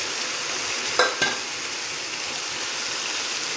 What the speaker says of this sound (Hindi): अब हम 10 मिनट इसको भूनेंगे।